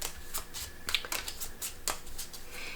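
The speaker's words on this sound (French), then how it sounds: "le premier joueur va mélanger ses cartes" Playing cards for the Palm Island board game being shuffled close up, a run of crisp riffling flutters in quick bursts with brief pauses, no voices.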